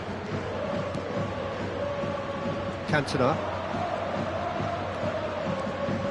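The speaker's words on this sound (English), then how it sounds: "the crowd are reacting to that now" A stadium crowd roars steadily in a football video game, a dense continuous murmur with a brief swell, under an in-game commentator's voice.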